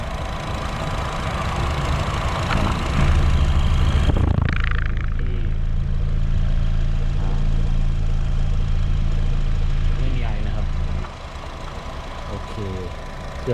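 A used Honda Jazz runs with its engine idling, a steady near mechanical hum and rattle that surges louder around four seconds and drops off near the end, with someone talking over it.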